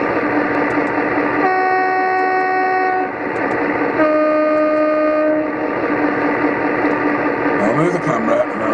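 Two long sounded model train locomotive horn blasts, a multi-tone chord, ring out over a constant rumbling running noise, loud and close.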